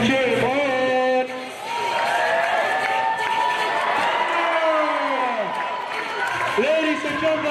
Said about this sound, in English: Ladies and gentlemen, can we cheer him on?